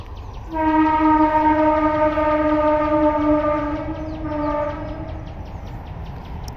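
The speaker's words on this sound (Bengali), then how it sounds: "ট্রেন ঢুকছে" A train horn blares loudly for several seconds over the rumble of a train rolling in, then fades as the wheels keep clattering.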